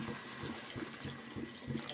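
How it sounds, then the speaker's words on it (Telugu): Water is poured into a pan of ridge gourd curry, making close, steady splashing with a quick pulsing gurgle throughout and no talk. "దీంట్లో కొంచెం వాటర్ వేసుకుందాం."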